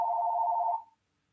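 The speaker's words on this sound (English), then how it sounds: "Just a second, I got a phone call." A single short telephone ring sounds for an incoming call, a clear steady electronic tone close by that cuts off after under a second and leaves silence.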